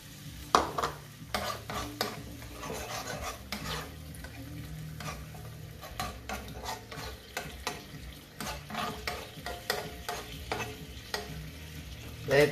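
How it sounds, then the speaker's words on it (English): Veggie stock and tofu simmering and bubbling in a pan, heard close as a steady low sizzle with repeated stirring scrapes and the occasional clink of a utensil against the pan throughout. "Let it cook for a bit or simmer."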